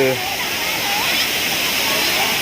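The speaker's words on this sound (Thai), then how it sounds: "นี่น้ำตกชื่อไซโยกน้อยนะคะ" Sai Yok Noi waterfall in Kanchanaburi, Thailand, pours with a steady broadband rush of falling water, loud and continuous, with a brief voice at the start.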